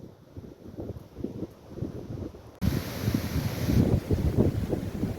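Strong storm gusts buffet a van, roaring in bursts of low rumbling wind noise against the microphone that swell louder and rougher halfway through.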